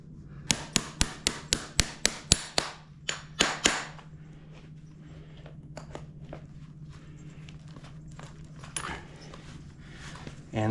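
Nails driven into a horseshoe on a horse's hoof with a hammer, first a quick run of about a dozen sharp metallic strikes, then a few more blows, then quieter shuffling and handling with a faint low hum.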